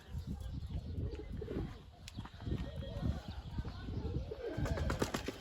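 Pigeons coo softly in a coop among rustling, fluttering and scraping sounds, with a person talking over them.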